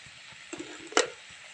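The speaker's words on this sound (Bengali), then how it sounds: "ঘি দিয়ে ভালো করে নেড়ে নেব" Halwa being stirred with ghee in a pan: a faint soft scrape, then a short sharper clack of the spoon against the pan, over a low steady background.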